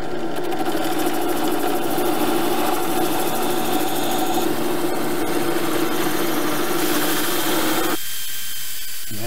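A power sander sanding wood runs continuously with a steady, buzzing whir, close and loud, then cuts off sharply near the end.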